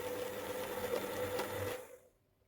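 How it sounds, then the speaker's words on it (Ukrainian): Electric hand mixer whirring steadily as it beats set gelatin mixture for a strawberry cake, a close continuous motor hum with light rattling that cuts off and fades to quiet near the end. "Включаємо міксер і перемішуємо."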